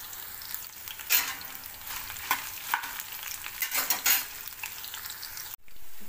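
About ten dried red chillies fry in a pan for ginger chutney, a continuous close sizzle with repeated stirring scrapes, cutting off near the end before a steadier hiss returns.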